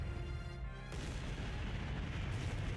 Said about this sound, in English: The sound of multiple explosions can be heard from the city below.